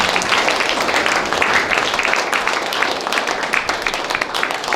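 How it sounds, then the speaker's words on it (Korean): Forum audience applauding to welcome a guest, a dense, continuous roar of clapping filling the room at steady loudness for the whole stretch. "다시 한번 박수로 환영합니다"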